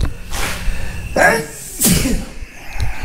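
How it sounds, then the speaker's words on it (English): A sudden sneeze bursts out near the microphone, followed by a second sharp exhale, over a low background hum. "Excuse me, I had to sneeze."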